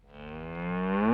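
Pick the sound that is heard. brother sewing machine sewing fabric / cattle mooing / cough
cattle mooing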